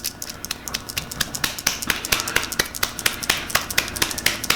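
A wheel bearing is packed with grease by hand in a garage, heard as a close, rhythmic series of sharp squelching snaps and pops repeating roughly every quarter second, with no talking.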